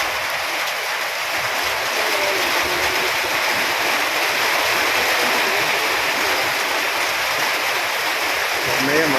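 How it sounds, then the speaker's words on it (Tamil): Heavy rain pours down in Saudi Arabia as a loud, steady, dense hiss that holds unbroken throughout, with no voices. "செம்மையாக மழை பெய்யுது பாருங்க."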